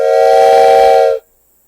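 A wooden train whistle blown outdoors gives one loud, steady chord-like hoot lasting about a second, cutting off sharply into silence.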